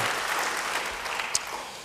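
Applause from a church congregation at an Indonesian-language sermon, steady dense clapping filling the hall for a couple of seconds with one sharper clap standing out near the end.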